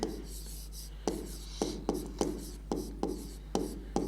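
Handwriting during a biology lecture, with regular strokes and taps of a pen or chalk about twice a second, close and clear, with no speech.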